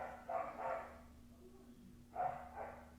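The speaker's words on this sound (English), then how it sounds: "my dog's down there losing it" A dog barking from elsewhere in a house, two clusters of two or three sharp barks separated by a pause, somewhat distant and muffled over a low steady hum.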